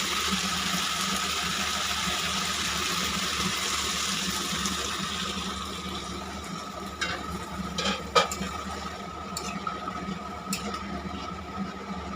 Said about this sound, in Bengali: মাংস আমার কষানো হয়ে গেছে পরিমাণ মতো জল দিয়ে দেবো